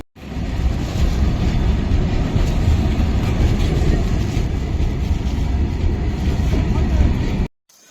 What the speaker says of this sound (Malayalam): അപ്പോഴത്തേക്ക് ട്രെയിൻ നീങ്ങുന്നു.